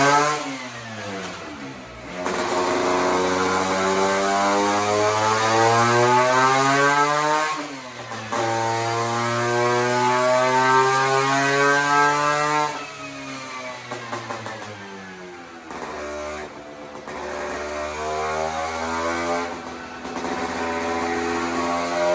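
A 1962 Vespa scooter with a tuned Pinasco 225cc engine roars on a dyno, revving up in long rising sweeps, briefly dropping off between pulls, then climbing loudly again, close and dominant throughout.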